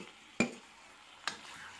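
A spatula scrapes through tomato-spinach paste and potatoes in a wok, two distinct stirring strokes about a second apart over a faint steady sizzle, close and fairly quiet.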